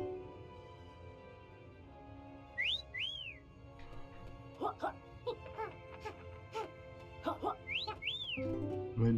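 A character in the video game Yooka-Laylee gives two bright rising-and-falling whistles, loud and clear, with game chatter sounds and someone talking over and between them.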